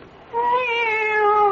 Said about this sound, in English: It's the cat. She's back.